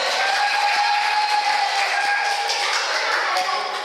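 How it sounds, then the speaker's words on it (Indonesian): An audience at a mosque adhan event at Masjid Al-Ikhlas Taman Duta claps steadily for Pak Yuli, a dense continuous patter with a thin whistling tone riding over it and little variation in loudness. "Langsung aja Pak Yuli, tepuk tangan dong Pak Yuli."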